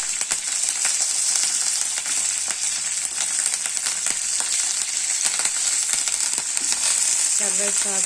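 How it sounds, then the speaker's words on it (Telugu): Green chilies fry in hot oil with spices in a pan, a loud, close, continuous crackling sizzle broken by repeated scraping strokes of a stirring spoon. "ఇలా పచ్చిమిర్చి యాడ్ చేశాక కలుపుతూ ఉండాలి."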